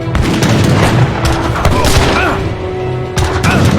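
Dense volleys of gunfire and booms from battle in Age of Empires III fill the stretch continuously, loud and close, layered with crackling shots and explosions.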